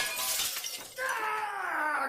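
Glass window smashing as a ball crashes through it in a children's TV cartoon, a sharp shattering burst followed by tinkling, falling shards over a descending musical tone, with busy sound effects throughout.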